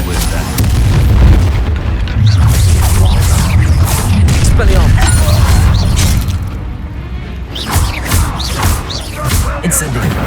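Incendio fire spell cast in the Hogwarts Legacy video game, sounding as a dense, loud, booming roar with rumbling bursts and mechanical creaks that last throughout.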